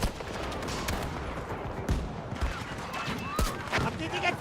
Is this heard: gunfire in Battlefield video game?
yes